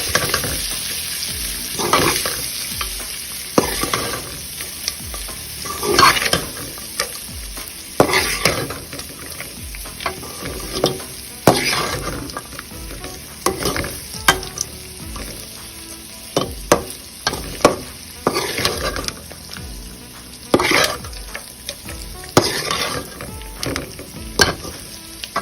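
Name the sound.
stirring cooked rice with salt in pan for lemon rice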